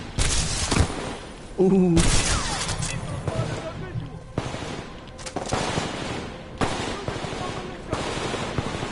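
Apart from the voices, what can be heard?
gunshots in the video game Titanfall 2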